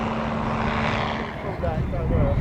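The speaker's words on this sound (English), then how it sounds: "that's the REV XS. Beautiful aircraft." The REV XS aircraft makes a low pass at a flying demonstration in high wind. A brief, rough engine and propeller roar sits under a commentator's voice.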